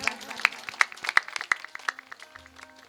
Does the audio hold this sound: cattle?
no